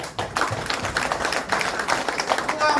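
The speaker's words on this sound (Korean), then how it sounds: "자 입만 딱 떼어 놓고 같이 박수를 한번 쳐요." An audience of seniors at a lecture claps together in a steady, dense patter, fairly close and continuous, with no talk over it.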